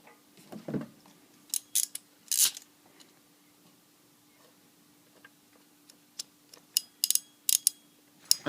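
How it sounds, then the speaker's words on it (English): Wire cutters snipping off a burnt wire connector during repair of an LG air conditioner, several sharp close clicks and snips spread across the stretch, with quiet gaps between them and no talking. "so I can just cut that off there and strip the wire and put a new connector on the end of it"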